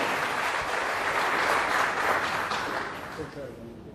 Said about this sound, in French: que je vous demande d'applaudir très fort pour ce travail